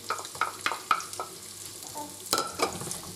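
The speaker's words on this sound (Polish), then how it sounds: "Jak olej już baje gorki, to wciepnijcie tą cebula." Chopped onion sizzles in hot oil for Silesian bigos, with soft frying crackle and several sharp stirring scrapes and clinks at close range.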